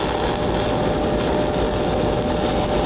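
A stick welding (SMAW) arc laying a second overlapping bead, a steady dense crackling hiss that runs unbroken and fairly loud throughout.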